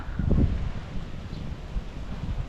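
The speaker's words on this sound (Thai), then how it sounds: "ลมแรงมากเลยครับ" Strong late-afternoon wind blowing outdoors, a steady low roar with buffeting gusts against the microphone that are loudest near the start, with no voices.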